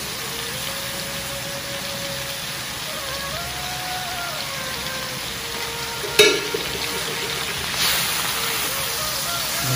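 Kangkung spinach fries in a pan with a steady, rain-like sizzle as it is stirred, a sharp clatter of the utensil striking the pan partway through, and a brief burst of louder hissing near the end.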